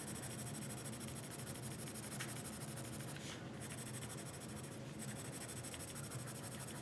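A midnight blue pencil shades in a cartoon drawing's hat with soft continuous scratchy strokes on paper, quiet and close, with a couple of brief pauses.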